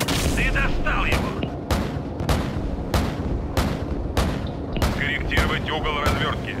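Battle sounds from Call of Duty 4: Modern Warfare, with a rapid series of loud gunshots and booming blasts, dense and close, over constant rumbling game noise.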